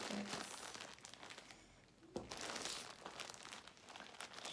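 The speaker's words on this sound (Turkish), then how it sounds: "Paketimizi açtık." Plastic wrapping from a yarn order package crinkles and crumples steadily as it is opened by hand indoors, with a sharper tearing rustle partway through.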